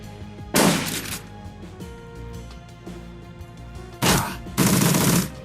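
Gunfire in the tactical game Shadowrun: Dragonfall comes as a loud burst of rapid shots early on, then two more heavy volleys close together near the end, all over a low ambient music drone.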